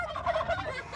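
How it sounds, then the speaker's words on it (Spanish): A turkey lets out a short, warbling gobble, a quick rattling burst heard at moderate distance against quiet surroundings, with no talking. "Ahí viene el pavo. Ahí viene el pavo."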